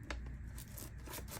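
Clear plastic wrapping around a square watercolor kit being torn open by hand, brief crinkly rips and scratchy tearing noises up close.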